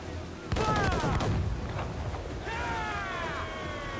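Ship mortars fire in Assassin's Creed IV Black Flag, loud booming blasts at about half a second with whistling shells arcing away, followed by a second volley of descending whistles.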